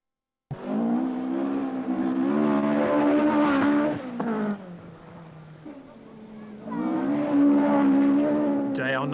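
Rally cars race past at a 1980s rally, engines rising and falling in two loud, close revving passes with a brief lull between them and a voice talking over the top.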